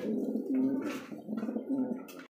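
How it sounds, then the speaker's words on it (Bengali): A pair of toy Lahori pigeons at a pigeon sale coo steadily in soft, rolling phrases, close by and alone with no voices. "একদম টয় লাহোরি কবুতর"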